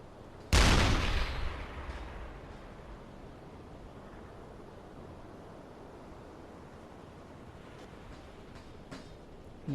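An armor-piercing round fires from a submarine deck gun in the UBOAT video game: a single loud, sharp blast whose rumble decays over about a second. It is followed by a low, steady wash of sea and wind with faint distant pops.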